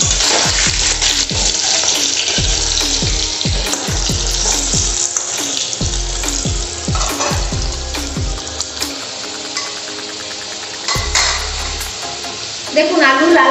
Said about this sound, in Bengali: এবার আমি আলুটা লাল লাল করে ভেজে নেব।